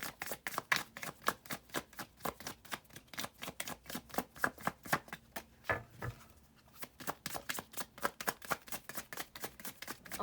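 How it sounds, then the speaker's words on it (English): Repeated riffling bursts of cards being shuffled, a rapid crisp rhythm with a brief pause midway, close up and fairly quiet. "okay, I'm gonna shuffle one more time."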